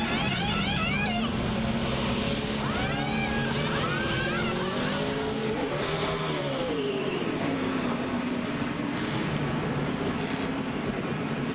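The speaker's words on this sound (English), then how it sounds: "Cacophony of air wrenches and squealing tires" NASCAR pit stops at the 2006 Samsung RadioShack 500, with rapid bursts of air wrenches and squealing, skidding tires over roaring stock-car engines, loud and continuous throughout.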